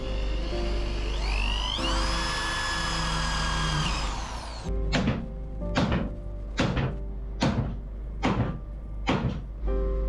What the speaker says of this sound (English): I'm gonna have to drill the heads off the nails